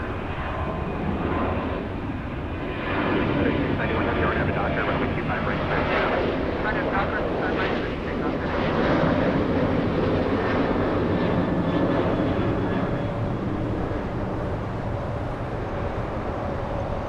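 Alaska Airlines Boeing 737-900 jet departing LAX with a steady, broad engine roar that swells after a few seconds and holds loud throughout, with talk heard over it.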